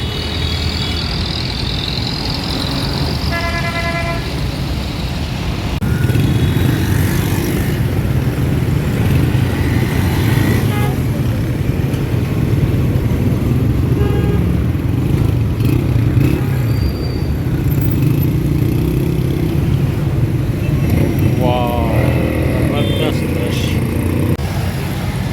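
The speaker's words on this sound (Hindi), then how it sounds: "बहुत ही मसरूफ़ चौक है, हर तरफ से गाड़ियाँ आती जाती हैं।" Busy traffic swirls around a crowded square on Station Road in Lahore, with cars and motorcycles passing on all sides: a steady, dense engine rumble that swells after the first few seconds, broken by occasional horn-like tones.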